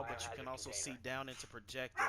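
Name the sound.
dogs barking and arguing in the background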